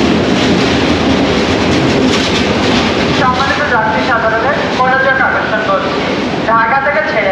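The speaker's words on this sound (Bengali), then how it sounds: "ঢাকা থেকে ছেড়ে আসা তারাকান্দি অভিমুখী যমুনা এক্সপ্রেস ট্রেনটি 1 নম্বর প্ল্যাটফর্মে 1 নম্বর লাইনে প্রবেশ করছে।" The Jamuna Express from Dhaka, bound for Tarakandi, rolls into platform 1 of a Bangladeshi station with a continuous rumble and clatter of rail cars. A voice talks over the train throughout.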